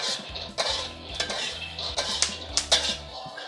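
Peanuts dry-roasting in a pan, stirred with a utensil: repeated metallic scrapes and clinks against the pan over a steady rattling background, close and fairly loud, with no voices.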